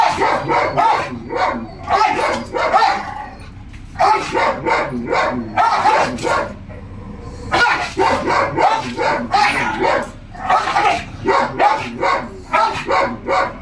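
A dog barks in repeated bursts of loud, close yaps, with short pauses between volleys and a few yelps mixed in, while the floor is being washed with water.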